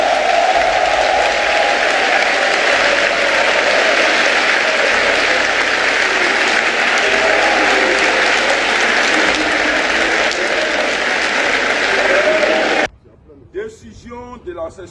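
At a political rally, a large crowd claps and cheers loud and dense for about twelve seconds, then stops abruptly as a single voice begins speaking.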